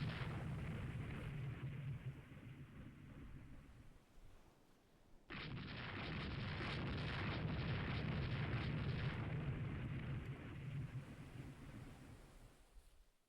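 Naval gunfire and shell explosions in the video game Rule the Waves 3 form a deep, rumbling roar that fades, drops away briefly, then returns as a louder, sustained blast before slowly dying down.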